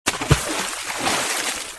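A cartoon character jumps into water, making a short splash followed by a brief rushing, bubbling wash of water, close and fairly loud, with no talk.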